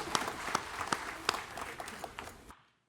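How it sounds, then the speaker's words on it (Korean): Church congregation applauding during a Sunday worship service in Daegu, a dense wash of clapping with sharper claps standing out, fairly near, steady for about two and a half seconds before cutting off into silence. "박수 하나님께 드리겠습니다"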